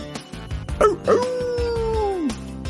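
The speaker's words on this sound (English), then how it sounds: "The sound of the dog." A dog lets out a couple of sharp barks that slide into a long, drawn-out howl, close and loud.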